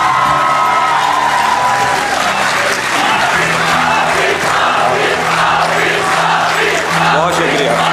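Loud audience applause with cheering and whoops fills a poetry recital hall, a steady wash of clapping throughout, crowd voices rising and falling within it.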